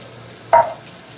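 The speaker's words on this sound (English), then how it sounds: "Give it a stir" Diced tomatoes and eggplant are stirred in a sizzling pan, giving a single loud scrape-and-splash of the spoon over a low, steady sizzle, close by and with no voice.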